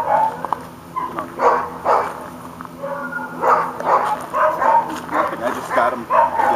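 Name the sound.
dogs barking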